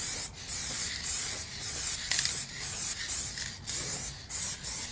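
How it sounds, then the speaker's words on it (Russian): A spray paint can hisses in repeated bursts while painting a 1:10 scale RC Kirovets K700 tractor model, roughly eight short close sprays separated by brief pauses, with no talk. "Всегда крашу только баллончиком."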